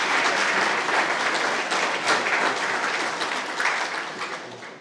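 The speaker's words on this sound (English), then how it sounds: "let's give a round of applause to our freshman team that's here tonight" A crowd in a new facility applauds the freshman team at a school special event, steady dense clapping that holds for several seconds and tapers off slightly at the end.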